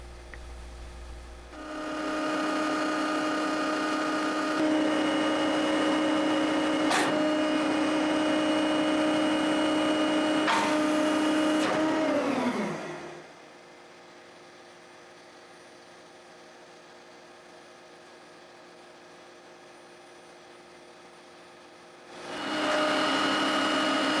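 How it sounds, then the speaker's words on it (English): Outrigger beams extend on a Grove TMS 9000E truck crane: a loud, steady hydraulic whine with a droning tone runs for about eleven seconds, winds down, pauses in quiet idle, then starts again. "To move the beams, select the proper function and engage the actuator switch."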